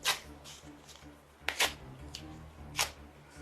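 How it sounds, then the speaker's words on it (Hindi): A paper expulsion notice is ripped apart by hand close to the microphone in a few sharp tearing bursts. Low background murmur and room noise run underneath. "ये मेरे निष्कासन का नोटिस जो मुझे दिया गया है, ठीक उसी तरह कैमरे के सामने फाड़ रहा हूं"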